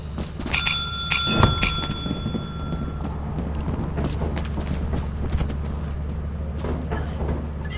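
A bell rung repeatedly in a video game, several bright metallic dings in quick succession early on with a ringing decay, followed by quieter clunks and low rumbling background.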